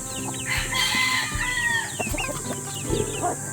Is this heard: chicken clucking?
yes